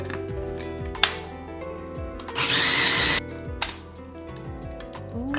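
A blender whirs black bean hummus with cumin and garlic in one short burst of a bit under a second. Softer kitchen clatter and machine hum surround it, with no talk.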